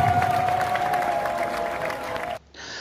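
A crowd at a Gabonese Democratic Party (PDG) rally applauds and cheers new party members, with sustained clapping and shouts under a loud amplified tone, cutting off abruptly near the end.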